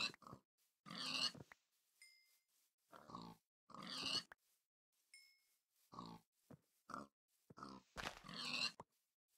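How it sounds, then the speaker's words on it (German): Pigs in the Minecraft video game grunt in short, separate bursts, about six spaced grunts interrupted by quiet gaps and a couple of faint game beeps. "Hier sind Schweine."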